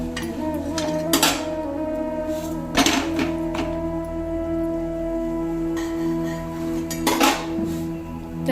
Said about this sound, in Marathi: तर आता आपण भाकरी पलटी करून घेऊया